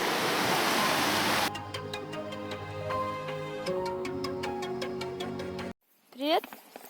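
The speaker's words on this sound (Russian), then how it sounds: "Водопад." A waterfall beside a river roars as a dense rushing wash for the first second and a half, then the sound cuts to a quieter scene with ticking and a brief voice at the end.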